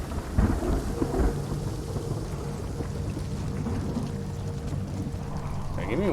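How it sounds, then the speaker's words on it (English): Heavy rain and rolling thunder from the video game The Medium, a steady wash of rainfall with deep rumbles and an early low crack, moderately loud and continuous. "The rain effect here is doing some stuff."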